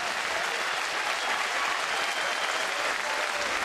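A baseball stadium crowd in the Colorado Rockies at Toronto Blue Jays game of June 2013 applauds the pitcher, a dense, even roar of clapping that holds steady for several seconds without letting up.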